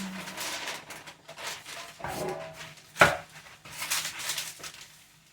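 Soft homemade bread dough is cut in a bread pan with a few dull knife thuds against the surface, close by, sparse and irregular, with one sharper knock in the middle and faint kitchen rustling around them.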